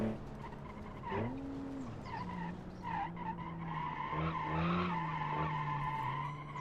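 Tires squealing in a long, loud skid as a car snaps into oversteer in the driving simulator BeamNG, with a whining pitch that wavers and shifts over an engine drone.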